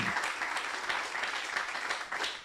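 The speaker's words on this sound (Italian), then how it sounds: "Date un applauso ancora." Audience applause at an Italian women's football team's end-of-season celebration, a dense, steady wash of clapping sustained for a few seconds at moderate loudness.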